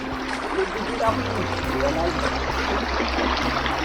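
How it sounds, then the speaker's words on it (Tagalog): River water flowing steadily past a farm lot in Liliw, Laguna, a continuous broadband rush with trickling texture close by, with people talking over it. "Ilog. Ito ang pinaka-border."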